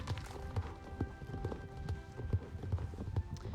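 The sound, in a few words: horse hooves clip-clopping in a video game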